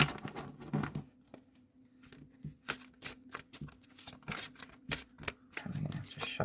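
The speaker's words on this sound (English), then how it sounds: "These cards are a little harder to shuffle." Stiff, rigid playing cards being shuffled up close, a series of quick papery snaps and flicks in uneven bursts, with faint background hum.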